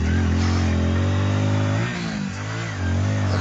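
A motorcycle stuck on a path revs hard, a loud, close engine drone that dips briefly as the throttle eases, then climbs again.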